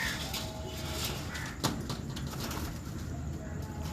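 Pigeons in a champion breeder's loft in Lahore, with soft cooing and bird calls over a steady close ambient hiss and one brief sharp knock partway through.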